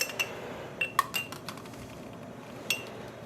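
A dry spoon clinks lightly against a container while scooping fine cochineal powder, giving a few sparse, quiet metallic taps over a soft background.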